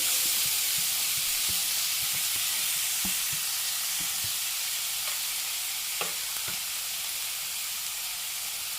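Grated carrot sautéing in leftover ghee for payasam, a soft continuous sizzle with a few scattered stirring taps.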